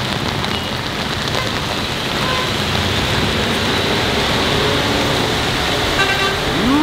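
Heavy cyclone rain pelts a moving car on the drive to Chennai, a dense steady hiss of drops over road and engine noise, with a brief horn toot near the end.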